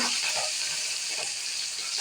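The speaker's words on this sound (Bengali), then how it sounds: "তাই আমি চিংড়ি মাছ ভাজছি" Prawns fry in hot oil with turmeric in a home kitchen, giving a continuous loud sizzling hiss with faint voices underneath.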